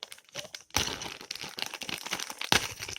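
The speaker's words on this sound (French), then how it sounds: "je vais être obligée de le déchirer" Plastic packaging for an eBay slingshot crinkles and tears by hand, close and fairly quiet, with a burst of ripping after a short pause and a sharp crackle near the end.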